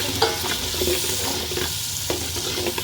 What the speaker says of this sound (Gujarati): અને હવે ટમેટા એડ કરશી આપણે છેલ્લે લાસ્ટમાં